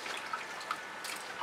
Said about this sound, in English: I'm going to put some water in my dish.